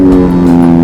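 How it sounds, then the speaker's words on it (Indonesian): A loud, steady engine tone from motorcycles and supercars at a street run, including four-cylinder bikes, holds for under a second, a sustained droning rev close by with no speech. "suaranya agak gede yang soalnya ini suara kendaraan semua"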